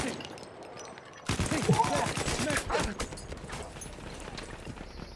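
Battlefield 1 gunfire breaks out suddenly: a dense, loud stretch of rapid shots and battle noise that gradually thins out, with no talk over it.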